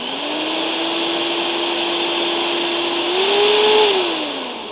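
A steady mid-pitched whine from a spinning metal drive sprocket for a Pagsta mini chopper, held in a chuck and ground evenly. The whine rises briefly near the end under a broad, loud, continuous grinding hiss.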